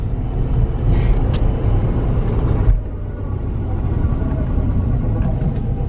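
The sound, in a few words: Subaru Legacy GT braking in neutral, noise from possible bad wheel bearing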